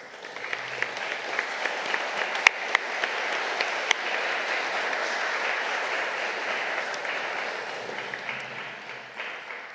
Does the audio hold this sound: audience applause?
yes